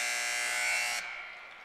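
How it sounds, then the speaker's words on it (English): A loud, steady electronic buzzer sounds at a 2020 Big Ten college wrestling dual meet, Michigan at Illinois, to end a period. The harsh tone holds for about a second, then cuts off, leaving arena ambience behind. "Buzzer."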